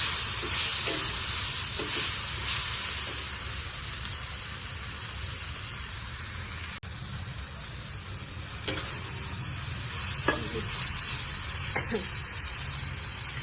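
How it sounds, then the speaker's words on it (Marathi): Garlic, cashews and ginger roasting together in a pan, a steady sizzle with occasional sharp clicks and scrapes of stirring. "लसूण, थोडासा काजू आणि आलं हे एकत्र करून सगळं मस्त भाजून घ्यायचं"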